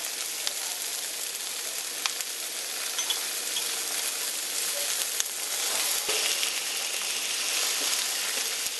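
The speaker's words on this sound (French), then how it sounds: "Toutes les parties de l'agneau qu'on devait jeter, ça veut dire les os et tout, je les mets aussi sur la poêle" Lamb bones and trimmings frying in a pan, a steady close hiss and crackle of sizzling fat that runs without a break, with a few faint clicks and no talking.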